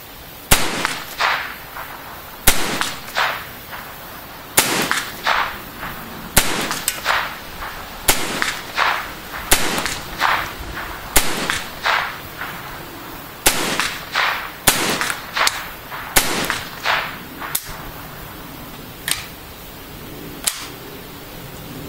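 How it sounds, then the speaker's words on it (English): Ruger 10/22 International .22 rifle with a walnut Mannlicher stock fired at a 100-yard target outdoors, about twenty sharp, close cracks in a steady, unhurried rhythm with brief pauses between shots. "I'm also going to shoot that just to make sure and give you a comparison."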